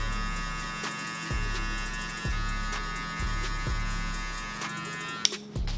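Electric hair clippers fitted with a number 2 guard buzz steadily at close range as they cut hair. Short bumps and dips in the hum follow the passes of the blade, with no talking.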